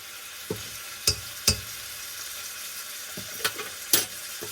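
Chopped garlic sizzles steadily in a hot pan, with a constant frying hiss broken by a few sharp clicks and scrapes of stirring.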